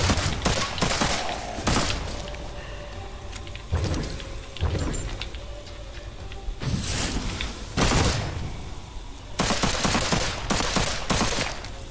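Gunshots in the Witchfire video game, loud sharp reports coming in irregular clusters of rapid shots separated by short pauses, with an ambient rumble between them.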